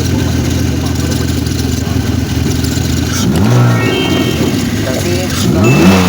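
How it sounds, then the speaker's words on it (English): A BMW 3 Series engine with a converted MS42 throttle body idles steadily, then revs up twice in quick rising bursts, close and loud, with someone talking over it. "Then you rev it."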